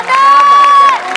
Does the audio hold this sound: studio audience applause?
yes